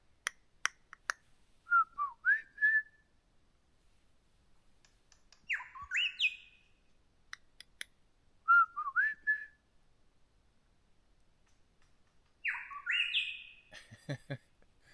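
A wild bird deep in a lost gold mine area gives clear, loud whistling calls mixed with harsh cracking squawks, in two repeated phrases separated by quiet gaps, with sharp clicks between them.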